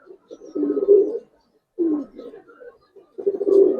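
Racing homer pigeons coo nearby in three distinct low, rolling bursts separated by short pauses.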